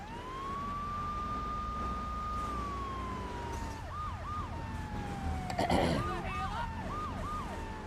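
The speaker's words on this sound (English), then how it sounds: "He turned his siren off." A police car siren starts as a long rising and falling wail, then switches to quick yelping whoops, loud and fairly close over traffic noise, with a brief burst of clatter partway through.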